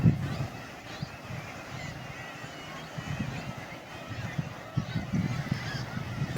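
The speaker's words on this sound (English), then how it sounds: "And you got the seagulls." Seagulls call by crumbling coastal cliffs at South Shields, giving repeated harsh, honking squawks in an irregular chorus over wind-blown outdoor noise.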